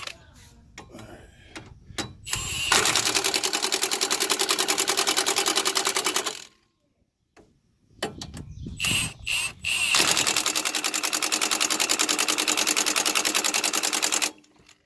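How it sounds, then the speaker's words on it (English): An impact wrench tightens front brake caliper bolts on a 2009 Ford Taurus X: short stuttering taps, then two long loud continuous rattling hammer runs, separated by a quiet gap with a few brief bursts. "I'm just going to use my impact and tighten those up"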